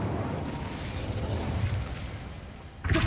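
The Incendio fire spell fires in the video game Hogwarts Legacy, a sharp burst bursting out near the end after a low, steady rumbling bed of game ambience.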